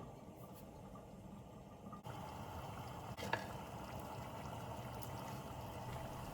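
Dry fish curry with vegetables such as drumstick bubbling in a pot on the stove, a faint, steady simmering hiss with soft bubbling and one small clink partway through, and no talking.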